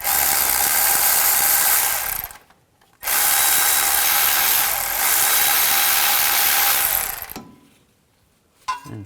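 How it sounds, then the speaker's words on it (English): A power tool spins a 12mm socket on the belt tensioner bolt of a 2004-08 Nissan Maxima, a loud steady whine in two long runs with a brief pause between, then a short final burst. "Now take a 12mm socket, and to loosen the belt, you actually want to tighten the bolt."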